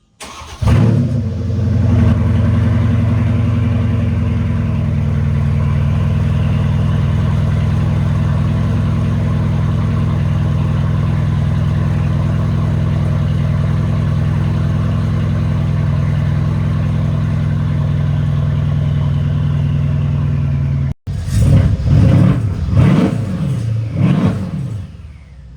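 Mercedes CLS63 with a GCA Performance valved exhaust, mid pipes and muffler removed, idling loud and deep for about twenty seconds with a steady low rumble, then cutting off briefly before short throttle revs.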